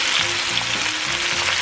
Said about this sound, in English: we want to make sure we get a nice sear on these, a nice crust